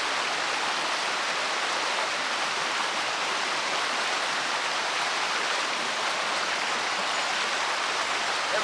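Creek water flows steadily at a bluegill fishing spot, a dense, even rush like a small cascade running close by for the whole stretch, with no talking over it.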